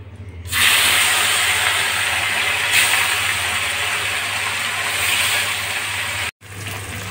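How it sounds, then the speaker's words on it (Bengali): Small sea fish frying in white oil in a hot pan, a loud continuous close sizzle and hiss that holds steady, broken only by a brief dip near the end, with no voices. "এবার আমি মাছটাকে ভেজে নেব"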